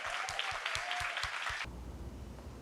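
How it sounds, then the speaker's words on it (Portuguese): Audience applause after a talk at a book fair, a brief burst of crowd clapping with rhythmic beats underneath, cutting off abruptly partway through into a low hum. "Palmas para a Mara aqui."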